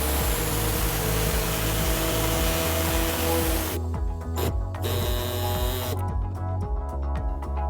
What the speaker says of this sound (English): we're going to cut out this exposed part using an air saw